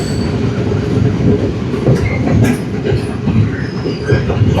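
A train pulls into Galle railway station, a steady loud rumble of wheels and carriages with occasional brief metallic squeals and clatter over the rails, no voices.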